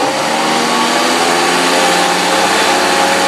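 A Volvo engine under a PCV crankcase-pressure check, running as a loud, steady mechanical drone close by, holding a constant raised speed with no clear change in pitch.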